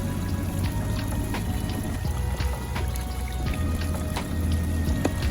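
Water pours and trickles steadily through the overflow tube of an OASE Bio Smart 5000 koi pond filter, a continuous splashing flow with small bubbling ticks, close and unbroken throughout.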